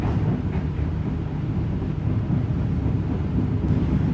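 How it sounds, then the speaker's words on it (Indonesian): Train interior while passing the oncoming Kalikung train near Brebes station, a continuous low rumble of wheels and carriage noise with a few faint high squeals, steady and unbroken. "menjelang masuk stasiun Brebes kita berpapasan dengan kereta Kalikung ya"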